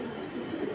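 A black male pouter pigeon coos softly, a short, low, murmuring call heard close by with no talking.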